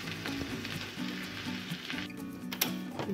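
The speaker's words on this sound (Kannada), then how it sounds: "ಇದನ್ನು ಬೆಣ್ಣೆನಲ್ಲಿ ಫ್ರೈ ಮಾಡ್ಕೊಳ್ಳೋಣ ಸ್ವಲ್ಪ ಲೈಟಾಗಿ" Crushed garlic frying lightly in melted butter for garlic bread gives a soft, low crackling sizzle heard close up with a few faint utensil clicks, and no one speaks.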